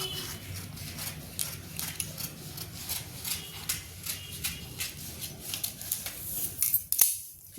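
Scissors snip through fabric to shape a deep round neckline, a regular run of crisp close cuts at a steady rhythm, ending in a few sharper clicks.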